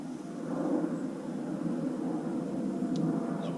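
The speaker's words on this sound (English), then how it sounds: "For any of you plane spotters that follow me, I think that it's an A380." An Airbus A380 airliner passes overhead as a loud, steady broadband roar that holds evenly throughout, with no voices.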